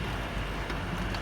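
Rain falls steadily in Kuwait at a home beside a highway, a constant close hiss of drops on surfaces with no break and no voices.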